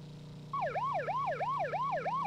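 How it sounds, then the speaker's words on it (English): A police siren in the racing video game Test Drive 6 kicks in after a quiet half second, then wails in a steady rising-and-falling cycle, loud and close, over a low engine drone. "even the omnipresent police siren disappears on its own, so even that's not permanent"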